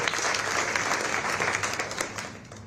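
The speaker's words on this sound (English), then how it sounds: "So how about a round of applause for 40 years?" Sustained audience applause at a Virgin airline announcement of new Las Vegas to England flights, a dense and steady wash of many hands clapping in a hall, with no talk.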